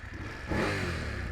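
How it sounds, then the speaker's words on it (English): A 2019 BMW F850GSA motorcycle's exhaust swells into a short rev partway through, a loud, close, mid-pitched engine roar that holds steady after a lower idle rumble. "Listen to that exhaust."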